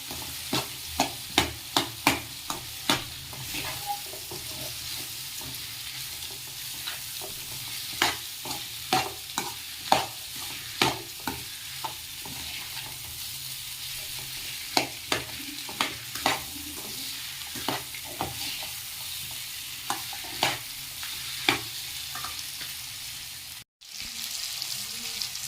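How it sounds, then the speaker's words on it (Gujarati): Boiled potato pieces stirred in a frying pan for a dry potato bhaji, a spatula scraping and tapping in quick irregular bursts over a low steady sizzle, close and fairly loud, with no talk. "હવે આપણે તેમાં આપણે જે બાફેલા બટાટાના પીસ કર્યા હતા તે નાખી દઈશું અને એને સરખી રીતે મિક્સ કરી લઈશું"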